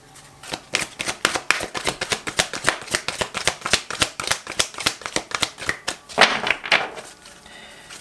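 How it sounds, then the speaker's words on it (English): A deck of tarot cards is shuffled in a rapid, crisp run of riffling slaps close to the microphone, followed by a brief louder flurry of card handling near the end. "I want to pull out one more card."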